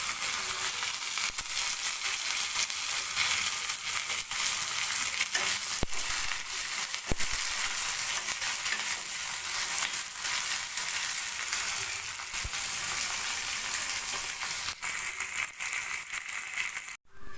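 Onion tempering for ridge gourd dal crackling and sizzling steadily in hot oil in a pan, a dense continuous frying hiss with small pops and spatters, close and with no voices.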